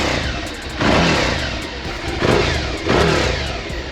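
A Suzuki SV650 motorcycle's exhaust roars nearby in a steady, loud drone, swelling in three throttle blips without any talking.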